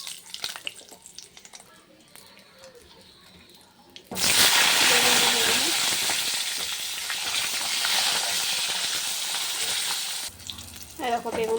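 Nigella seeds (black cumin) dropped into hot oil left from frying fish, a quiet kitchen that bursts into a loud, close, sustained sizzle partway through, fading near the end as other sounds return.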